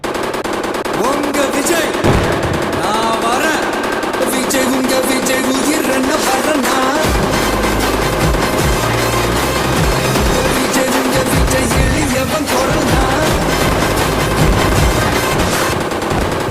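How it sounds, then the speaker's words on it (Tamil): A long string of firecrackers bursts outside a house in rapid, machine-gun-like crackling, loud and continuous for the whole stretch, with heavier booming pops mixed in partway through. "வாங்க பட்டை வச்சிடலாம் பட்டாசை"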